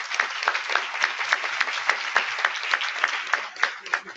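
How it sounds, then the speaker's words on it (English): A conference audience at an opening plenary session claps steadily, with dense, close applause and sharp individual hand claps standing out throughout. "give them a big round of applause."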